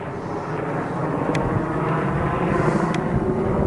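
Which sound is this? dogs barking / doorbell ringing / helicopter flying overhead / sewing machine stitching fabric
helicopter flying overhead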